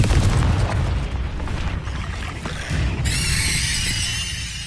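Confringo fire spell from Hogwarts Legacy bursting in a loud, heavy explosive boom, followed by a crackling, sizzling magical tail and a bright shimmering ring that lingers to the end.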